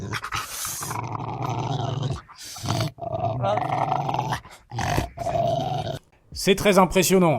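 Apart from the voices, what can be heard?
Rottweiler dog growling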